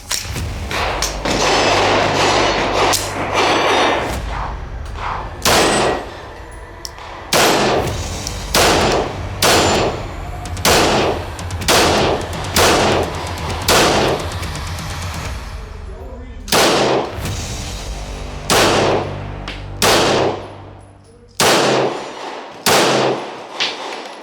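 Rapid pistol shots from a Glock 49 fired at a series of targets on a range, sharp loud cracks in quick bursts with short pauses, background gunfire from another course faintly behind.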